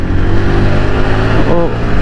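A car engine drones loudly and steadily, its pitch climbing briefly near the end as it revs on a downshift to overtake a bus, with a voice speaking over the road noise.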